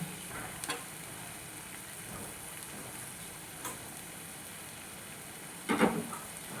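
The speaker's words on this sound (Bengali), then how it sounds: "দেখুন গরম জল দিয়ে দিচ্ছি এবার একটু ভালো করে নেড়ে নিলাম" Oyster curry simmering in a pan after warm water is added, a soft steady bubbling sizzle with a few faint scrapes and one louder clatter of a stirring spoon near the end.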